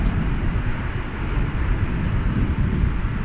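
A heavy American Airlines jet, flight 20, at DFW Airport gives off a steady, broad low roar that fills the whole clip at an even, fairly loud level, with no talk over it.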